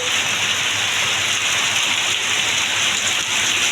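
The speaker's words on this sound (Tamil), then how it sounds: "காலையிலே வந்து மழை வேறு லெவலில் பெஞ்சிகிட்டு இருக்குது" Sudden heavy morning rain pours down in a village in a steady, dense hiss, loud and unbroken throughout, with no voices.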